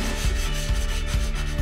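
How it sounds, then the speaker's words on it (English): Sandpaper rubs steadily back and forth across a wooden notebook cover in close, even strokes. Faint rhythmic thumps mark each change of stroke, and no one speaks. "I started sanding with 80 grit sandpaper and worked my way up"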